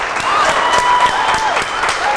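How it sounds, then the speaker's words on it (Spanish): Audience in a Latin salsa TV program studio applauding, a dense steady wash of clapping with some crowd noise, fairly loud and continuous over about two seconds. "los aplausos de la gente que está ahí para Rupert"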